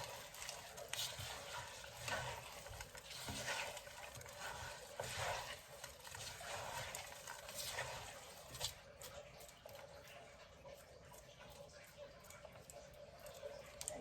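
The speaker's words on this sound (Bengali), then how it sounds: "ভাত রান্না করছি" Rice and lentils cook in a pot for khichuri with meat broth, ginger and ghee, a quiet, steady bubbling and soft stirring scrape heard nearby with faint talk in the background.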